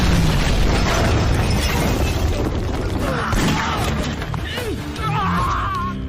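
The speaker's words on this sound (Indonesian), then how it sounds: "Setelah itu PJ meledakkan kediaman anak buah Kanca yang bernama Sataram" A house belonging to a henchman is blown up in an Indian action film, a dense, loud roar of blast and debris that rumbles on for several seconds, with crashing fragments and faint voices underneath.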